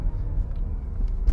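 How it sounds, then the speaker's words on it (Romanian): Turbo diesel engine of a Jaguar XF while driving, a steady low rumbling drone heard from inside the car. "Dar aici se aude zgomotul de motor diesel, se aude turbo dieselul acela."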